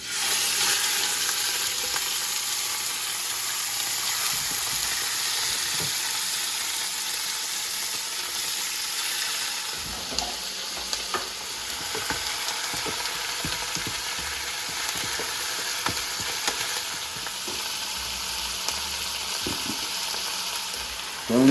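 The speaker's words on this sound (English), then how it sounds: "So now that my oil is hot, I'm going to sear the steaks 1 to 2 minutes per side." Steaks sear in hot oil in a pot, giving a loud, continuous sizzle and crackle that holds steady throughout, with occasional soft clinks and stirring bumps.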